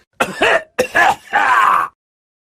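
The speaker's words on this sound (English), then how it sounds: "The old man coughed." A single elderly-sounding voice coughs and groans in three rough, drawn-out bursts, close and fairly loud, with no words spoken.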